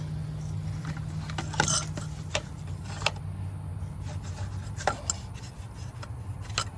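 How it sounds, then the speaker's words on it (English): Bolts being removed from the transmission of a 2005 Dodge Dakota 4.7 V8 4x4: scattered metallic clicks and ratcheting ticks over a low steady hum, close and moderately quiet. "Taking these bolts out."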